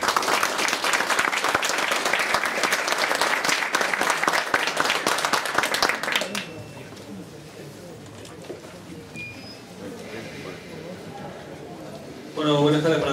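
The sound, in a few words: audience applause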